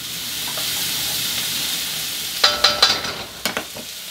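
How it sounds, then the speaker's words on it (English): Garlic sizzles in a little oil in a wok over high heat, with a steady hiss and a run of sharp crackles and stirring clatters partway through, loud and close. "I got my wok on pretty high, and I just put in 2 teaspoons of oil. Now, I put the garlic in first."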